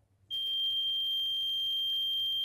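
A steady, piercing high-pitched buzzer tone from a simple 5V laser diode alarm with a latch relay starts abruptly after a brief quiet moment and holds continuously at constant loudness.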